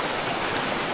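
Steady broadband rush of a river near Lake Sebu in the Philippines, continuous and loud, with no talk.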